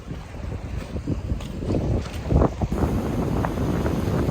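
Strong gusting wind buffets the microphone while rough sea waves surge and wash nearby on a Taiwan coast, loud and rough throughout.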